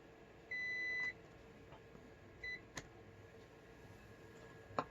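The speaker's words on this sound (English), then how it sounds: "After starting up, short press the button, and the buzzer will sound once." A single short electronic beep from a handheld battery spot welder's buzzer at startup, followed by a fainter second tone and a few small clicks in a quiet room.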